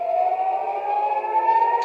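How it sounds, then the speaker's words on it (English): Air raid sirens wail across Tel Aviv, a steady, sustained mechanical tone that holds loud and unbroken, heard alone without voices. "as you can hear, the sirens are going off here in Tel Aviv"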